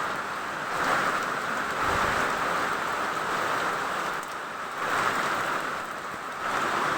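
Heavy rain falls during a fishing trip, a steady broadband hiss that swells and eases in gentle waves, with no voices over it.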